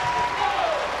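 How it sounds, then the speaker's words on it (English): A crowd at a college women's volleyball match, Rainbow Wahine against Army West Point, applauds a diving play with a steady, dense clapping roar that fills the short moment. "Crowd applauding the slip and slide dive there by Jolie Rasmussen"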